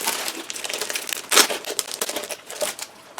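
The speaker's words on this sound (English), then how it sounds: "let's just see inside of this paper bag." A paper bag from a craft supply box is opened and rummaged through, giving close, loud crinkling and crumpling rustles in uneven bursts with one sharper crackle midway.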